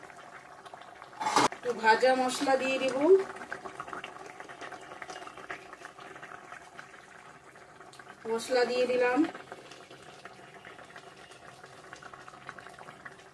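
Katla fish curry with onion, garlic and tomato bubbling steadily in a pan, a low continuous simmer beneath two short bursts of someone talking.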